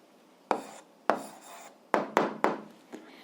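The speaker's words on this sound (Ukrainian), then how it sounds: "Ну що ж, записуємо відповідь, пишемо відповідь." Pen strokes on paper as an answer to an 8th-grade algebra exercise is written down by hand, a series of short scratchy taps and strokes, close and fairly quiet.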